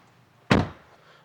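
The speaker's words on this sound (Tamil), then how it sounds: "டோர் க்ளோஸ் பண்ணுறப்போ ஒரு" The rear door of a 2025 Renault Kiger facelift shuts with a single solid thunk after a quiet moment, then a short fading resonance.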